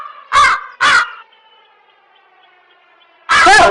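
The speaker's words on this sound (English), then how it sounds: "Crow." A crow gives two short, loud caws close together, then after a pause a third harsher caw, with a faint tonal hum underneath between the calls.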